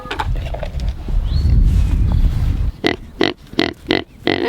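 A Kune Kune pig on a homestead with a pregnant sow's hut being built: a rough, loud rumble fills the first seconds, then a series of about five short, close grunts comes at a steady rhythm, one after another.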